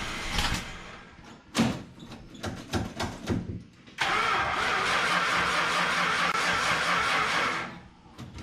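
A car engine fitted with a freshly rebuilt Carter BBD two-barrel carburetor cranks in uneven starter bursts, then catches and runs at a steady, loud idle for several seconds before dropping off, no talking.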